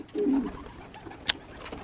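Young racing pigeons coo nearby in a low, steady burble, with a sharp bright chirp partway through and soft loft ambience around them.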